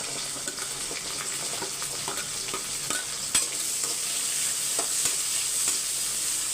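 Small onions and drumsticks sautéing in a pan with green chillies and curry leaves, a steady hiss of sizzling broken by the scrape and clatter of a spoon stirring, close and continuous for the whole stretch.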